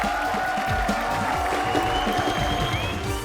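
A comedy show studio audience applauds at a finale, a sustained round of clapping with some cheering in the crowd, while voices and background music carry on over it.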